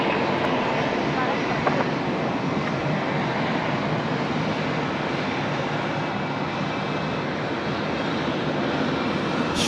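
Qantas Boeing 787-9 bound for Dallas rolling for takeoff on Sydney runway 16 right, a loud, steady broadband jet engine roar held throughout at close range, with voices faintly under it.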